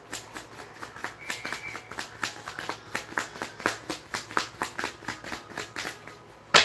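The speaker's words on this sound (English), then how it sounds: "I'm going to shuffle this one time." A deck of cards being riffled and shuffled, a rapid series of crisp flapping bursts close by, ending in a sharp snap.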